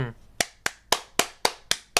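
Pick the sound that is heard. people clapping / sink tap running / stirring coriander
people clapping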